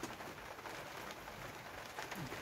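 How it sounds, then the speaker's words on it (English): Steady rain falls on an allotment plot, a soft even hiss of drops throughout with no talking. "it's been raining for, I think, virtually 6 hours now"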